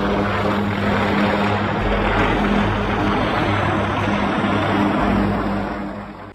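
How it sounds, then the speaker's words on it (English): An MH-53 Sea Dragon military helicopter flies close by, its loud, steady rotor and engine roar holding even throughout before easing off at the end. "the MH-53 military helicopter, known as the Sea Dragon"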